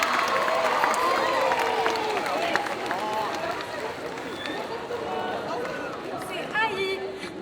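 A crowd at a solo cosplay contest claps and cheers for a cosplayer, dense applause mixed with excited chatter and voices throughout, loud and sustained before tapering slightly.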